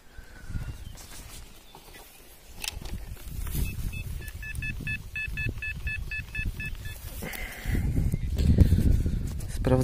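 A metal detector gives a run of evenly spaced electronic beeps in a signal burst while searching for buried items outdoors, moderately loud over rustling and handling noise, with footsteps and scuffing after.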